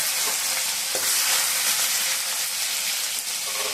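Tomatoes sizzle as they fry in a pan for an okra and egg curry, a steady, bright crackling hiss that fills the short stretch without any voices.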